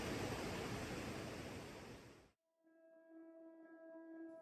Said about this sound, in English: This waterfall is one of the most powerful in southern Washington and has good water flow